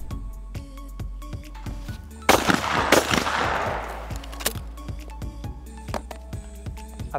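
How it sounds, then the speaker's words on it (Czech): Shotgun loaded with birdshot cartridges fired at targets on a shooting range: a loud close blast with a long decaying echo, among repeated sharp clicks and rattles. "já střílím s brokovýma nábojema, ne s kulovýma"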